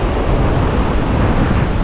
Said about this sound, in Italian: finalmente muove il mare